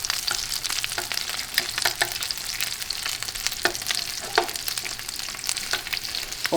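Shrimp frying in butter in a pan, with a continuous crackling sizzle and scattered pops throughout, loud and close, no voices.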